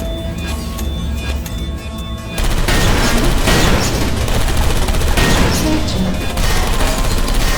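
Automated sentry turrets in Portal Stories: Mel open fire in a dense, loud burst of rapid gunfire that starts abruptly partway through, following a quieter stretch of ambient hum.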